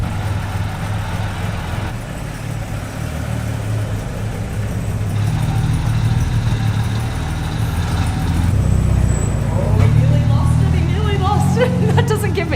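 An Aston Martin DB4 GT's engine runs steadily as the car is driven out of a garage, a deep continuous rumble that grows slightly louder, while people talk over it.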